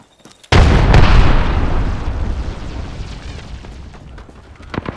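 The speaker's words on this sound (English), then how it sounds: "Frag grenade sent." A frag grenade detonates in the video game Apex Legends, a sudden loud blast about half a second in that rumbles and decays over several seconds, with a few sharp pops and a voice line near the end.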